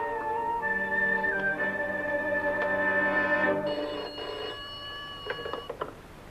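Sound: telephone ringing after a call is placed

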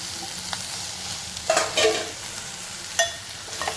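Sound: capsicum frying with onion and turmeric in pan

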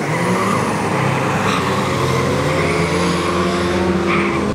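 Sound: drag race car launching at a no-prep event

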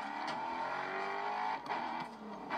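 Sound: race cars driving in GRID Autosport, video game

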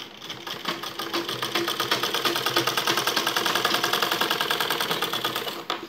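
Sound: sewing machine stitching a baby frock

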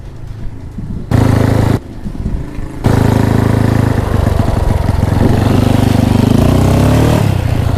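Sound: Honda Wave motorcycle engine running and revving

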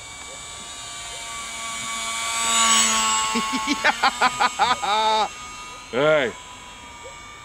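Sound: UMX Gee Bee R-2 model airplane flying

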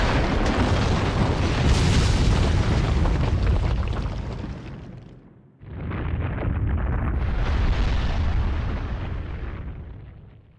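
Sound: explosion in Naruto Shippuden Ultimate Ninja Storm 2 video game

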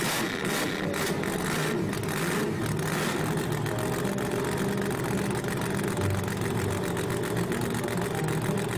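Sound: cartoon monster truck engine starting and idling

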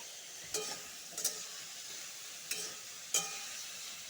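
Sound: frying pointed gourd (potol) in oil

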